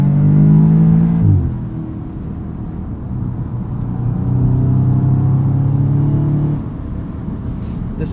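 A 2016 Audi S3 sedan's engine drones steadily while driving on a bumpy road, with a gear change early on, then a sustained mid-rev hum that settles lower toward the end.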